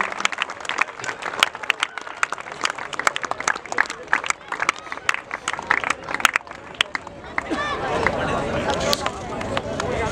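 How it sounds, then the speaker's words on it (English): Audience applause for the assistant coach of an under-19 national football team at a league ceremony, a dense run of crowd clapping that swells into a steady roar of applause and cheering toward the end. "Can we have a loud round of applause here?"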